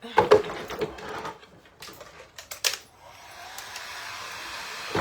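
A hair dryer blows on a freshly painted tray, with a steady, soft airy rush settling in after a few scattered knocks and handling clatters at the start.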